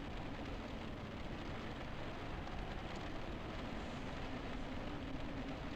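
Storm rain in a vehicle simulator, set in a North Atlantic storm with 26-knot winds and 6-foot waves, hisses as a steady, dense wash of rain and wind noise that holds evenly throughout.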